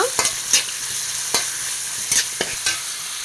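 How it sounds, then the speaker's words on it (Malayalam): Sliced onions frying in about two tablespoons of oil with cinnamon, cloves and fennel seeds in a wok, giving a steady close sizzle broken by several sharp scrapes of a spoon stirring them. "ഇതാ സവാള ഇപ്പം നന്നായിട്ടൊന്ന് മുരിഞ്ഞ് വന്നിട്ടുണ്ട്"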